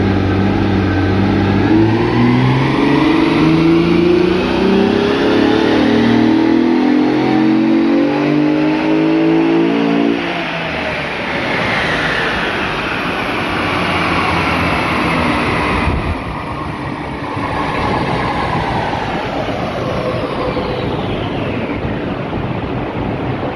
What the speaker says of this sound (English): we're ready to do the final power run on the dyno today